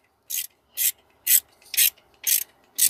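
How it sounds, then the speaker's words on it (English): Ratchet wrench snugging down valve cover bolts on a 2004-2006 BMW X3 E83 during a gasket replacement: six crisp, evenly spaced ratcheting bursts, close and fairly loud, with no talking. "going to show you how to tighten these bolts in the order I showed you"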